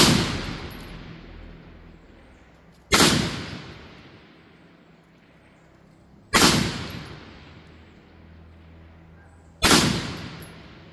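A rifle fires at an outdoor shooting range: three sharp, loud gunshots about three seconds apart, each followed by a short echoing decay, with no talk in between.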